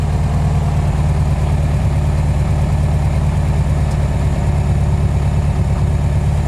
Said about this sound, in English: it comes right down to a smooth idle